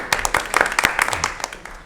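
Brief scattered clapping from a small crowd at a school board meeting after a motion passes, a few sharp claps close by that taper off quickly.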